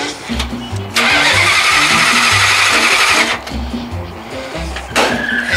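A 1969 Plymouth Roadrunner's engine cranks without starting: loud rhythmic starter churning in long bursts, separated by short pauses.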